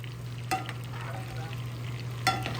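Steak frying in butter in a cast iron skillet, a soft steady sizzle with two sharper scraping or spooning clicks as the butter is basted over the meat, close and fairly quiet.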